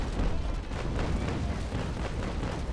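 Ship cannons firing in the naval combat game Naval Action Legends, a dense, continuous rumbling broadside of overlapping booms, loud and sustained throughout with no talking.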